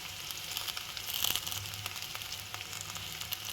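Peanuts and curry leaves sizzle steadily in hot oil in a pan, a soft continuous crackle with small pops and no talking.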